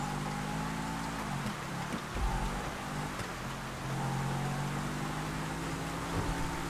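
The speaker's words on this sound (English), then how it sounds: "the rain doesn't make it any easier" Steady rain hisses across a rainy night in GTA 5, heard during an off-road race through traffic, with a car engine droning underneath throughout.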